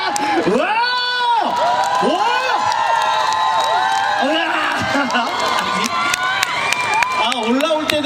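A crowd at an outdoor festival concert cheers loudly, with high whoops, shrieks and excited shouting over scattered clapping, dense and continuous throughout.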